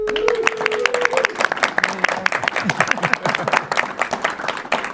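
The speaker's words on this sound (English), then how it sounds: "I'm clapping for you." Clapping at the start of a relaxed live interview with artists, a crisp run of close, fairly loud claps from a smaller group, with a voice briefly heard early on.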